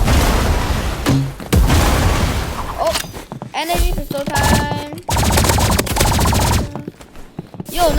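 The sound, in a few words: energy pistol gunfire in the video game Roblox Rivals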